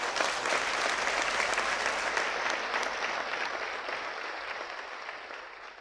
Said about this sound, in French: Je voudrais donc qu'on puisse saluer ici sa mémoire par des acclamations de...